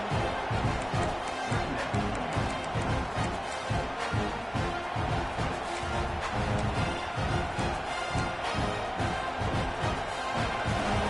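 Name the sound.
football stadium crowd roaring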